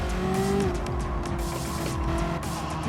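A Ferrari F40 in a racing video game, driven with a Logitech G29 wheel, gives a loud, steady engine roar with tire squeal and skidding noises throughout, with no voices.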